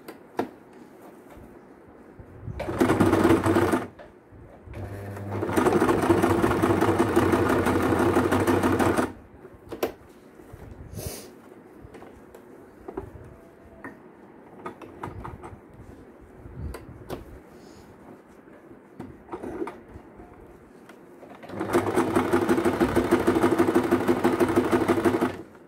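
A sewing machine stitches a frill dress blouse in several bursts, a short run followed by a longer whirring run and a final sustained run, with quiet handling noises between.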